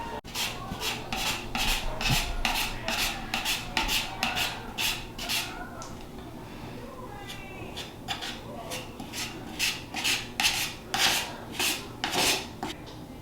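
Caulk worked into screw holes and the gaps between wooden board-and-batten slats during a bathroom renovation, heard as a steady run of close, rhythmic rasping strokes that pause briefly midway.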